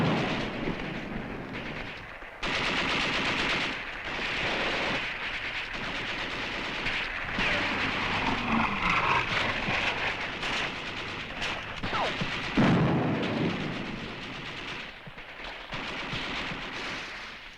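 Continuous battle soundtrack from a 1956 French war film set in Indochina, with dense machine-gun bursts, rifle fire and heavy mortar blasts rolling loudly for the whole stretch, no speech over it.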